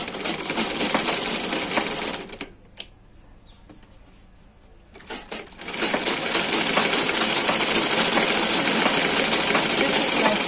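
A sewing machine stitches a pair of trousers, running loud and steady with a brief pause of a few seconds partway through before the whirring motor starts again.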